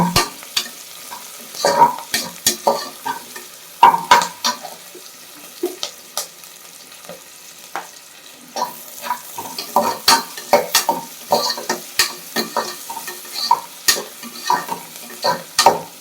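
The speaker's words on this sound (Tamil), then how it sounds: "இந்த மிளகாயெல்லாம் இந்த வெள்ளையை வெந்து வருங்க, வெந்தாலே நல்லா இருக்கும்." Green chillies fry in oil while being stirred for tomato rice, soft sizzling beneath close, irregular scraping and clinking strokes of a spoon against the pan.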